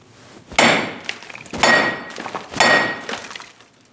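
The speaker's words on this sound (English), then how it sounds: "we're going to tap on the side of the hub right here and try and get it to rock back and forth" A hammer struck against the side of a wheel hub on a 2001-2006 Chevrolet Silverado, three sharp metallic blows about a second apart, each ringing briefly before fading, close and loud with no talk.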